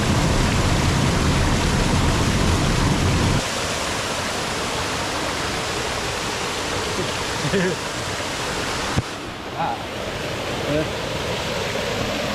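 Water rushes steadily through channelled, funneled ponds at an industrial site, a dense broadband roar heard close, with a loud stretch at first and then a somewhat quieter continuous flow.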